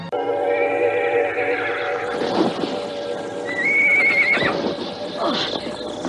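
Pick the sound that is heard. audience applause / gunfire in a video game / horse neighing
horse neighing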